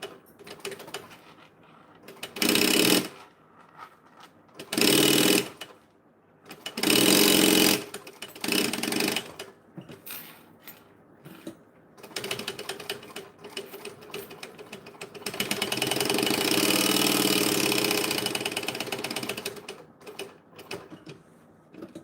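A sewing machine stitches a seam in short bursts, pausing between runs for pivoting and a back stitch, then runs in one longer steady stretch near the end, close and fairly loud with no talking.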